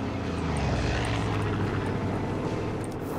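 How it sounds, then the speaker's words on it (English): Nick's propeller plane in Far Cry 5 roars past as a loud, continuous engine drone with a thick, buzzing low end, close and steady for the whole moment. "Oh, there's Nick's plane!"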